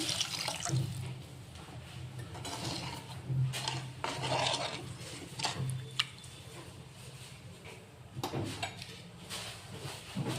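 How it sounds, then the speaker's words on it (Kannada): Around four glasses of water poured into a pot for a family pack of vegetable noodles, a close, continuous splashing pour with uneven surges and a few sharp drips or clinks along the way. "ನಾನಿಲ್ಲಿ ಒಂದು 4 ಗ್ಲಾಸಷ್ಟು ನೀರು ಹಾಕ್ಕೊತಿದ್ದೀನಿ"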